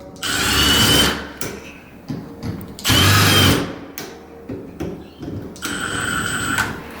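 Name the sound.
power drill driving screws while hanging a door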